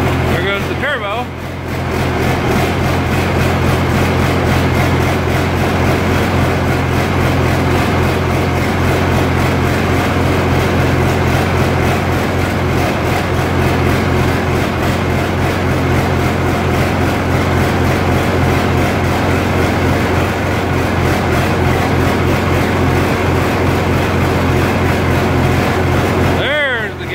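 An Oliver 1855 tractor engine running with its turbo: a loud, steady diesel drone with a strong low throb and a high turbo whine held throughout, a voice speaking over it.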